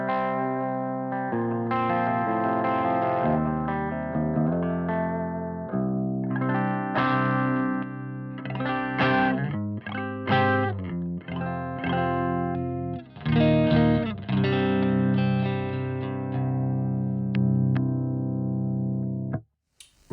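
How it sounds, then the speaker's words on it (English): A vintage Stratocaster electric guitar played clean straight into a Victory VX Kraken amp, sustained chords and picked notes ringing with slight effects shimmer, loud and continuous for about twenty seconds before stopping. "this is just the guitar into the amp"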